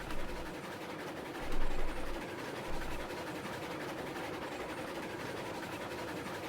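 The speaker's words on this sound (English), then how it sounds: "I will be just going around on the train." A video game train riding along its track gives a steady rolling rumble with a few low thumps, continuous and moderately loud, with no talking.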